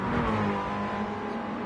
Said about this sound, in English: As you say, Armins has definitely been revving it a bit harder